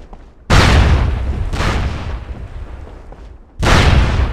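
Grenade blasts in the SOCOM Combined Assault video game, three loud booming bursts in quick succession, each rolling out with a long noisy tail.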